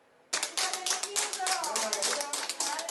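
A group of people claps together in a burst of applause that starts suddenly and keeps going at a steady level, with some individual claps standing out near the listener. A few voices seem mixed in.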